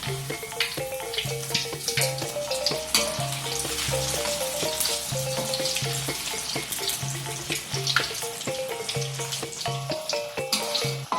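Corn fritters fry in hot oil with a dense, continuous sizzle, and occasional clinks and scrapes as they are turned in the pan, with background music playing throughout.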